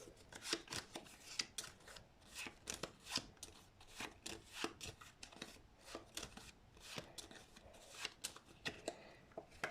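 A deck of playing cards is shuffled during a magic trick, a run of soft, crisp riffling and sliding bursts in an uneven rhythm, quiet and close with no talking.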